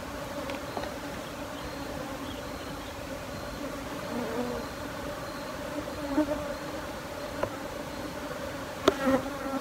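Steady buzzing of many bees swarming close by around a hive built in tyres, a dense continuous hum with a few brief louder passes and faint knocks.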